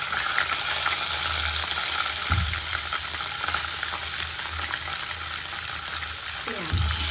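Bay leaf and green chili fry in hot oil with a loud, continuous close sizzle and a low steady hum beneath it, with a couple of brief stirring knocks and no voices.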